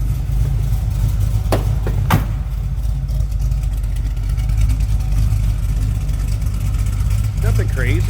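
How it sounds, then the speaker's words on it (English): A 1971 Chevrolet Nova with a 400 small-block V8 and a mild cam idles steadily and loudly up close, a low rumbling throb with a slight lope, lasting throughout with brief clicks and faint talk. "Nice muscle car sound at idle."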